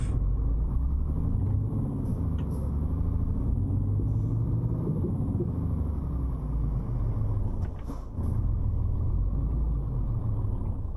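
A car pulls away after the handbrake is released, a steady low engine rumble from inside the cabin that holds for several seconds with a brief dip, no one speaking.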